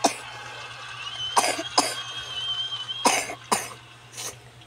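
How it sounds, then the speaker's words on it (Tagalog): A person coughs repeatedly in short bursts, roughly five separate coughs spread over a few seconds, fairly close and loud over a steady low background hum. "Ubo ng ubo."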